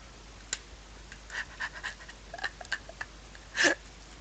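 Dog panting in the video game Saints Row: The Third, a string of short breathy huffs and sniffs with one louder burst near the end, close and clear with no talk over it.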